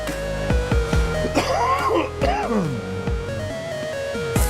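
Several short harsh bursts that sound like coughing or throat clearing, close and loud, over a steady musical background with sliding tones.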